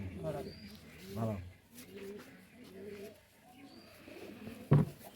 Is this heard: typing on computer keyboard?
no